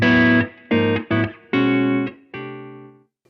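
An electric guitar played through a Blackstar ID:X floor unit sounds five or six sustained notes and chords that rise and fade, with a short effects tail after each one.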